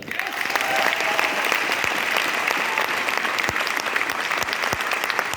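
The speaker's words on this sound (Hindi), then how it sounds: "महेंद्र सिंह धोनी के लिए एक बार जोरदार ताली।" A crowd gives loud, sustained applause for cricketer Mahendra Singh Dhoni at a stage event in India, a thick, even wash of clapping with a few sharper individual claps standing out.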